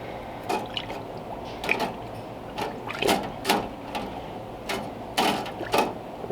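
Holley carburetor parts set down into an Eastwood ultrasonic cleaner: a series of separate metallic clunks and scrapes, close and fairly loud, with sharp knocks at irregular intervals.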